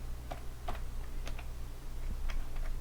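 Keystrokes on a computer keyboard entering a DSUM formula into an Excel spreadsheet, a sparse run of light clicks and taps spaced unevenly over a low steady room hum, close and fairly quiet, with no voices.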